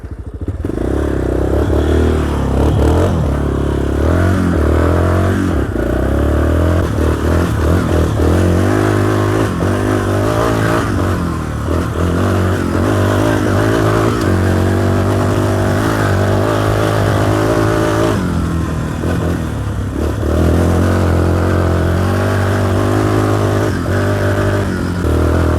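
Yamaha Raptor 350 quad engine revs repeatedly over nearly half a minute. The loud, close single-cylinder bark rises and falls in pitch with clattering mechanical texture and changing throttle.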